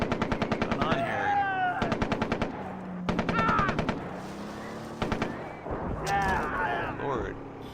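Rapid bursts of automatic gunfire in the Far Cry 3 Classic video game on Xbox One X, several volleys separated by short gaps, loud and close, with game sounds and voices in between.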